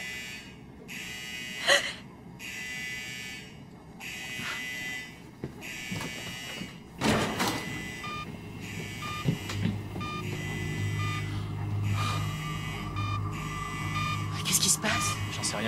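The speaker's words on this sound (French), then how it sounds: "C'est sûrement une alarme défectueuse." A faulty electronic alarm buzzes in an aircraft cockpit in a disaster film, sounding in repeated on-off bursts at moderate volume, with gasps and voices around it.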